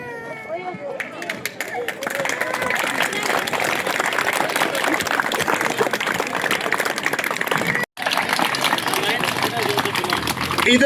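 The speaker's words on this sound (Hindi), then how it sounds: "जोरदार तालियां" Loud, sustained applause from a crowd at a government senior secondary school award ceremony in Tajsar, honoring winners, with steady clapping and background chatter filling the room, a brief break near the end before clapping resumes.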